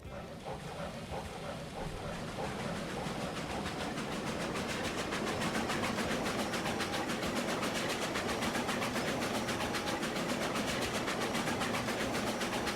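A train in the video game Transport Fever 2 rumbles along steadily, a continuous rolling wash of rail noise with faint rhythmic clicking, loud and unbroken throughout.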